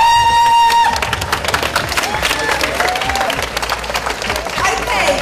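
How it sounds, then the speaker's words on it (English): Studio audience at a live late-night show in Brisbane clapping and cheering loudly throughout, a dense steady roar of applause with whoops after a brief opening tone. "How hard can you clap?"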